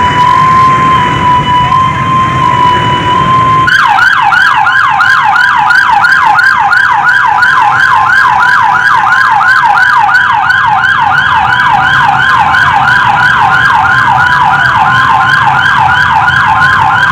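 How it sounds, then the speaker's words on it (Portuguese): A loud emergency vehicle siren wails in a steady, rapid repeating warble at a funeral procession for a municipal guard in a Brazilian town centre, starting abruptly after a few seconds of crowd murmur and continuing close and prominent. "Toca a sirene, toca a sirene."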